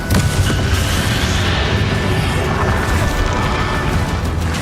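Confringo blasting curse explosions in Hogwarts Legacy, a dense, loud, sustained roar of booming blasts and crashing impacts filling the whole clip during a spell duel, with no one talking.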